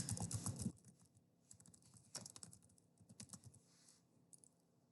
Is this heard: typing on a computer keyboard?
yes